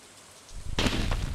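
Rain on a night in a video game starts faint, then swells abruptly into a loud, dense rush of falling water with a low rumble beneath it, no voices.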